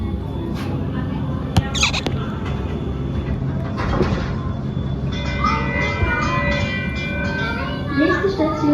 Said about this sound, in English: The train is leaving the station.